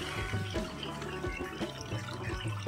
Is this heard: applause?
no